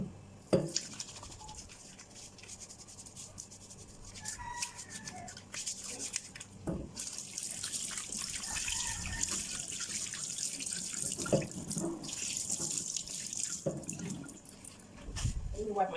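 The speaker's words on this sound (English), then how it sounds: "quickly I have to wash my hand" Running tap water pours steadily into a kitchen sink while hands are rinsed under it, a continuous splashing hiss with small bumps and clatters, and a voice talking over it at moments.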